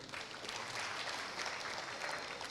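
A crowd applauding steadily at a Mbarara University of Science and Technology gathering, dense clapping at moderate loudness that continues without a break.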